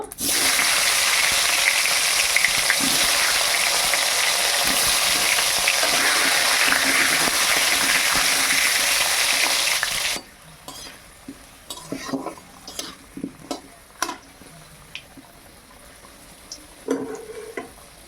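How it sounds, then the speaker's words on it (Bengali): Potatoes fry in a kadai of hot oil with a loud, constant sizzle. It cuts out sharply partway through, and scattered clinks and scraping from handling the pan follow. "এবার আমি আলুটাও ভেজে নেব"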